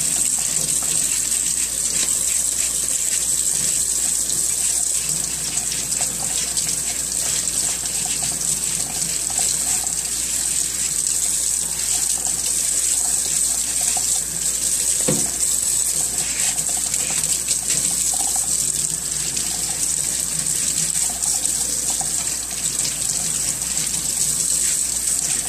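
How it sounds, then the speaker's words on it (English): Steady rushing of tap water running continuously, loud and close, with a faint clink partway through and no voices. "So I'm going to turn on the water"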